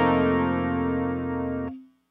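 Distorted electric guitar with chorus rings a major barre chord, fretted fingers lifting off so the open high strings finish it, a single sustained strum that holds steadily then stops sharply, with a faint ring fading out.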